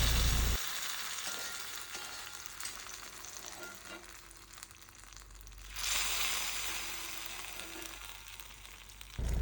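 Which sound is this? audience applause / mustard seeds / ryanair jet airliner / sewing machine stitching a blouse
mustard seeds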